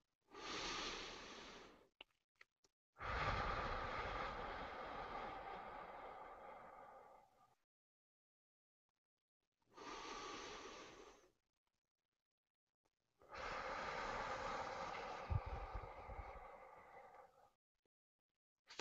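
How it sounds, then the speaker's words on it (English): Slow, deep breathing in a guided exercise, long drawn inhales and exhales close to the microphone, separated by silent pauses in a calm, unhurried rhythm. "Breathe with me."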